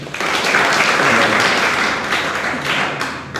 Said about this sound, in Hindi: ताली बजाइए उनके लिए।